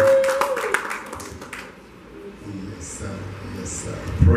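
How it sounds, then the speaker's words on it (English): A church congregation claps to welcome a speaker to the pulpit, a burst of applause that fades within a couple of seconds, followed by quieter room noise and faint voices. "welcome him with a round of applause for thanksgiving to welcome the Lord today"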